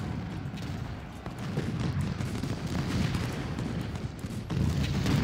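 Gunfire from an open Civil War skirmish in Ultimate General: Civil War, heard as a continuous, rolling clatter of overlapping shots and battle rumble at moderate loudness that grows slightly heavier near the end.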